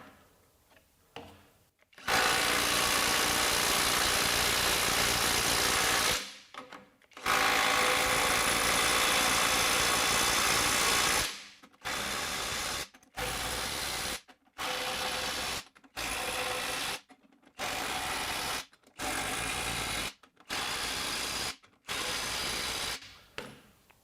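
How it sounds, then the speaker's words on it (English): Skil IW5744 PWRCore 12V and DeWalt DCF902 cordless impact wrenches running nuts down and hammering, first two long loud bursts of rapid rattling impacts, then a regular series of shorter hammering bursts separated by silent pauses, close up. "it will run in for 2 turns and then should bottom out, and we'll let it hammer for 5 seconds"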